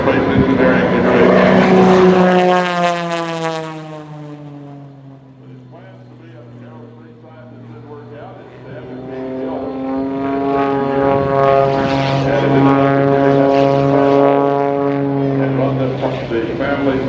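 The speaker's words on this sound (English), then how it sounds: "The airplane around and working his way back to the airshow center." Gary Ward's MX-2 aerobatic airplane at an airshow, its propeller engine drone sweeping down in pitch as it passes, then steadying and rising again, loud and continuous throughout with no talk.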